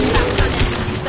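Rapid rifle fire in Mass Effect 2 comes as a loud, dense burst of overlapping shots with no gaps.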